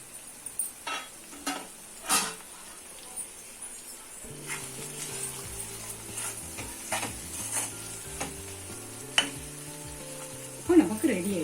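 Spicy prawn varuval frying in a pan, a low sizzle beneath intermittent spoon scrapes and clatters against the pan, with a steady hum joining midway and a louder clatter near the end.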